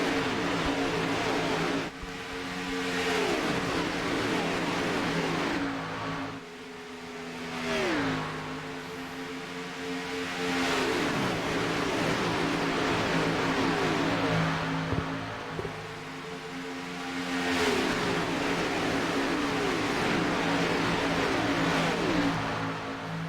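Race cars roar around the Daytona 500 oval in a racing video game, a continuous loud engine drone with repeated gear shifts and passing surges.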